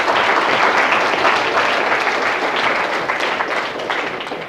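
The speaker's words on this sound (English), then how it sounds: "Everybody give our detector and Evan a round of applause." An audience at a lecture applauds steadily, dense clapping that fills the room and slowly tapers off toward the end.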